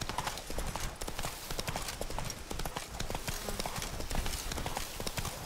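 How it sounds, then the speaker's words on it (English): Horse hooves clip-clop steadily through a dense forest in The Witcher 3 video game, a continuous near rhythm of soft thuds with crackling undergrowth and a faint voice beneath. "Is this forest too dense for the horse?"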